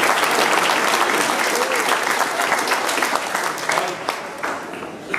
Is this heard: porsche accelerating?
no